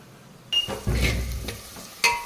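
Fenugreek leaves frying in a pan, stirred briefly: a short burst of sizzle and scraping after a quiet start, ending with a sharp metallic clink of the utensil against the pan.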